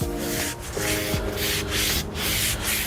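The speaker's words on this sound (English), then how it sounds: "and wipe off any of the immediate left behind sawdust." A damp rag wiped across a sanded wooden garage door to clear leftover sawdust, making continuous close rubbing strokes with a few brief pauses between passes.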